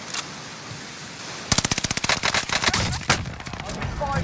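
Rapid machine gun bursts crackle in a Call of Duty Warzone duos match, a dense run of sharp shots after a quiet stretch, with a few later pops while players talk over the gameplay.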